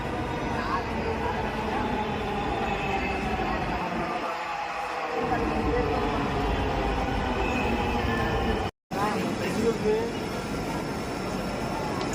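A Dhaka MRT metro train carries riders along, giving a continuous loud rumble and rolling rail noise with a faint high whine and occasional squeals, broken by a brief cut near the end.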